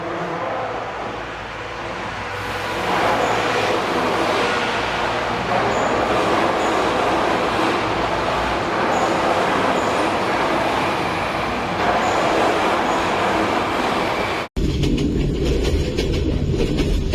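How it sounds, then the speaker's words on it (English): An ICE TD diesel train departing Fehmarn Island toward Hamburg after a ferry crossing, a steady, loud rolling rumble of wheels and engine that stays constant for many seconds before cutting abruptly to a quieter, different background. "the ICETD wasted no time, departing immediately to continue its run toward Hamburg."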